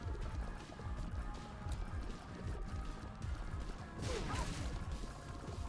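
Horse hoof clip-clops and horse noises from the video game The Binding of Isaac Afterbirth+, a steady rhythmic thudding pattern within busy, dense game audio that runs continuously throughout.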